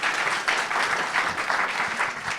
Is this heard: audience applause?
yes